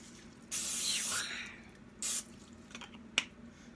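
Two short hissing bursts from an aerosol can of cooking spray, the first about a second long and the second briefer, followed by a faint click.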